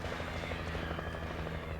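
Helicopter in a video game, a steady rotor chop and engine drone that stays loud and constant throughout, alone without speech.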